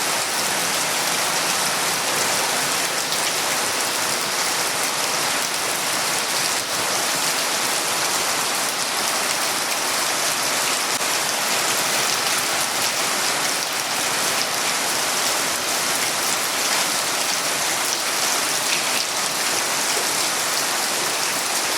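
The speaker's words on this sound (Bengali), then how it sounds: "অনেক দিন পরে আজকে মালয়েশিয়াতে বৃষ্টি হইল, খুব ভালো লাগতেছে।" Steady rain falling in Malaysia, a dense, even hiss of drops on surfaces that holds unchanged throughout, close and fairly loud with no voices.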